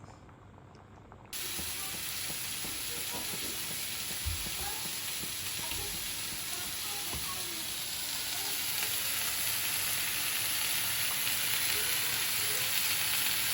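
Food seasoned with salt, pepper and paprika simmers and sizzles in a pan with a steady frying hiss and scattered small pops and crackles, starting abruptly after a short quiet moment and continuing evenly.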